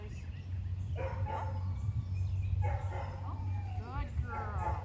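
A young female puppy on a leash yips and barks in short bursts, with a few whimpers mixed in, close by against a steady low hum.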